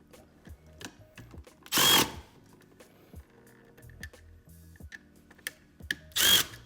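A power driver tightens screws while a smart outlet is fitted into a wall box, two short loud whirring bursts separated by several seconds of small clicks and handling noises.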